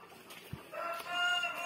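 Desi Kadaknath chickens at a poultry farm give a few soft clucks and short calls close by, with a brief thump among them.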